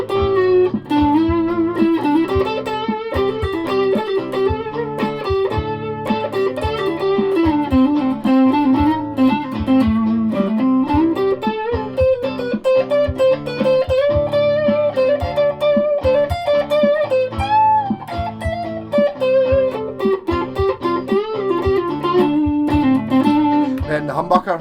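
An electric guitar with a four-way switch Telecaster-style setup, played through a Joyo British Dream distortion pedal on the humbucker, rings out loud and continuous with sustained overdriven chords and a wandering melodic line, no voices.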